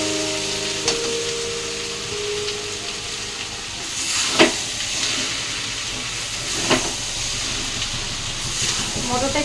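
Potatoes sauté in a pan as boiled chickpeas are added, giving a continuous soft sizzle and hiss. A few brief clattering knocks are heard, with faint background noise.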